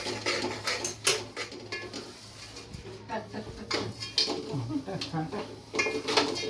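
Jaggery and sesame ladoo mixture being stirred in a pot, with irregular metallic scraping and clinks of the spoon against the pot close by, accompanied by people talking.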